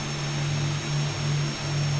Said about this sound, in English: Start on engine number 2.